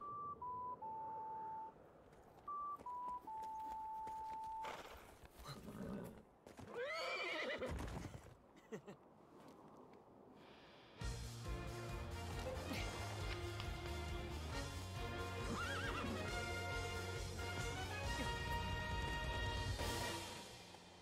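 A horse whinnies and gallops in the Hyrule Warriors video game, a loud neigh followed by clip-clopping hooves, with game beeps early on and music swelling in later.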